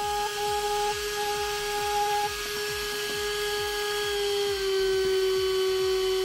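Battery-powered heat gun running steadily with a whining motor hum and a fast regular ticking pulse, its pitch sagging slightly as the battery charge runs down, close and continuous with no talk.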